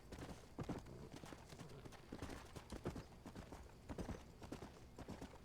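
Horse hooves clip-clop in the Red Dead Redemption video game, a quiet, steady rhythm of repeated hoof strikes at walking pace with no talk.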